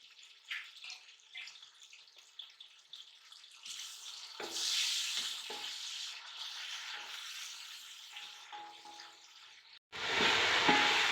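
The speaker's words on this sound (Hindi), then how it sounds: "अब इसमें हम टमाटर डालेंगे, इसको अच्छी तरह भूनेंगे।" Tomatoes and chopped green chillies fry with onions in a pan, making an uneven sizzle that swells and fades with stirring, then stops briefly before a loud, dense burst of sizzling near the end, with no talking.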